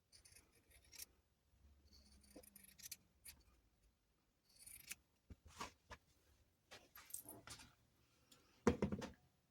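Scissors snip around fabric doll skirt pockets, trimming the seam allowance in short bursts of close, quiet cuts separated by pauses and light rustling of cloth.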